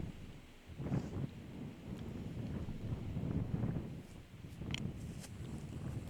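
Gusty wind blows across the microphone outdoors at a disc golf tournament, a faint, steady low rumble with a few soft knocks and ticks and no voices.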